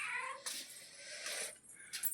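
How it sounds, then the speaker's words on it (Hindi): A house cat yowling and meowing for milk, a drawn-out wavering cry with a few quieter rises, heard alone at moderate distance indoors. "अब बिल्ली चिल्ला रही है"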